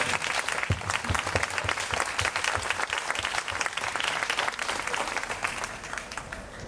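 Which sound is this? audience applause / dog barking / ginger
audience applause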